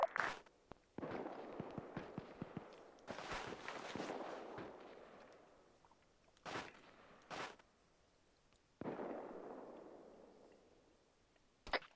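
Faraway gunfire from the south comes as bursts of cracks and rolling echoes, breaking off and starting again across the stretch, with some sharper single reports between them.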